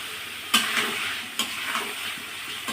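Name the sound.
stirring mango pickle in spiced oil on low heat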